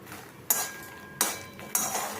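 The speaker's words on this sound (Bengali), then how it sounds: "এক বাটি মাখনা এই ঘিটার মধ্যে দিয়ে লো ফ্লেমে হালকা করে ভেজে নেব" Makhana (fox nuts) tossing in melted ghee over a low flame, with three sharp utensil scrapes and clatters against the pan at steady intervals, each trailing off into a soft rustle of the nuts.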